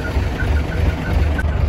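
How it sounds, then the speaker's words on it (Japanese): A parked truck's diesel engine runs at a steady idle, a continuous low rumble with faint mechanical ticking, close by and alone with no talk over it. "エンジンとかかけてみる？"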